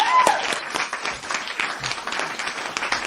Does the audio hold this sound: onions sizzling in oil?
no